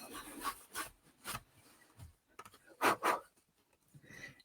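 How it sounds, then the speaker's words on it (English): A rag rubs colour over a stencil in short, dry scraping strokes: a few quick passes near the start, then two louder close rubs later, separated by quiet gaps. "we're just going to rub on top of where we've already put color like this"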